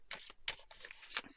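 Tarot cards are shuffled by hand in soft, papery bursts, close and quiet, over a few seconds.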